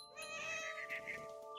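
A cat in the video game What Remains of Edith Finch gives a drawn-out, wavering meow, clear and alone against a quiet background.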